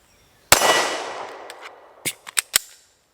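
A Springfield Armory Echelon pistol fires outdoors: one loud close shot with a long ringing decay, then a quick cluster of four sharp shots a moment later.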